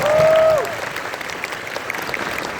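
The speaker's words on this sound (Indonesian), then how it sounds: "tepuk tangan buat kalian" A young audience at the Young On Top National Conference 2023 bursts into applause after a brief high tone fades, clapping densely and steadily through to the end at moderate loudness.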